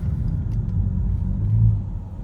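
A 2015 Ford Mustang with a 3.7 l V6 drives along, its engine a deep, steady rumble heard from inside the car that swells briefly as it works, with no voices.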